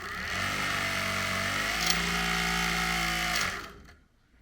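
A small electric throttle motor in an RC submarine under bench testing, with the boat out of the water. It gives a steady whirring hum with shifting pitch for about three seconds, then winds down and stops, followed by a faint click.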